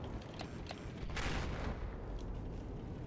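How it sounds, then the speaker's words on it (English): Distant gunfire and explosions from a tank battle in the video game Battlefield 4, a steady rumbling barrage with a brief louder burst of blast noise, heard alone without talk. "Is that the tank shooting at us?"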